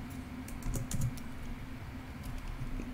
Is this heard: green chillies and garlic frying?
no